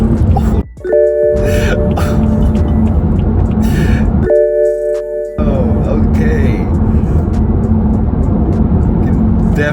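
BMW F30 335i with N55 turbo engine and intake while driving, a loud steady road and engine drone with intake noise, briefly broken by chime-like tones and a short cut.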